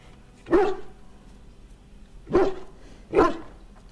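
A dog in the video game Dragon Age barks excitedly three times, sharp and close, with the last two barks coming quicker after a pause.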